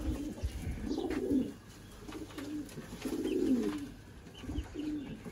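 Low, throaty pigeon coos repeat in a steady rhythm over a few seconds, close by, with faint chirps and background hiss.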